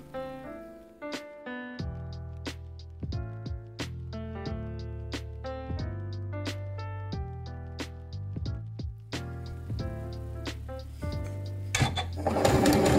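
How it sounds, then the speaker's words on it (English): A sewing machine stitches along fabric piping snug against the cord, running in steady bursts of fast, even stitching with brief pauses between runs, close and clear with no talking. "As you come up to a join, you're just going to sew right across it"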